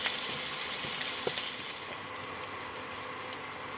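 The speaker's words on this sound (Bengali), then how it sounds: "এবার এই সব ফোড়নগুলোকে ভালো করে ভেজে নেব আদা কালো জিরে আর কাঁচা লঙ্কা" Ginger, nigella seeds and green chili frying as a tempering in a pan for niramish doi begun, a steady close sizzle and crackle that fades slightly as it goes on.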